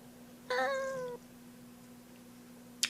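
A cat gives a single drawn-out meow, close and clear over a low steady hum, followed by silence and a brief click near the end.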